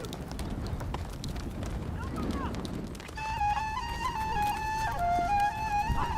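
Herd of horses running across open Mongolian country, a dense rumbling drum of hooves, steady and fairly loud, with a bright tonal melody rising over it midway.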